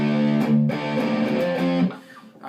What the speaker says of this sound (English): we're going to have our reverb back on now